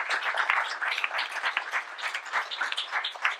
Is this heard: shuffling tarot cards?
no